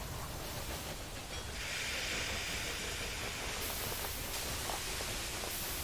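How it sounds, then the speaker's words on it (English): Steam locomotive The Rocket in the Railway Empire 2 game, a continuous broadband hiss and rumble of steam and running gear that brightens partway through, steady and fairly close, with no voices. "Here's our first train. The Rocket."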